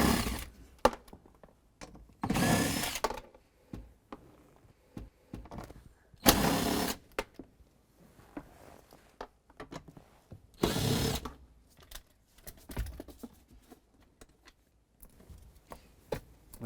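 A power drill backs out four 10mm bolts behind a cup holder panel inside a 2003-2021 Chevrolet Express 3500, in several short whirring bursts separated by quiet pauses with small clicks and clunks, close by.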